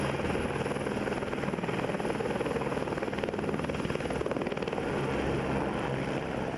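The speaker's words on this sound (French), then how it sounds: "quand l'hélico arrivera sur place" A rescue helicopter flies over Basque mountain terrain, its rotor chop a constant, loud, steady drone with no voices over it.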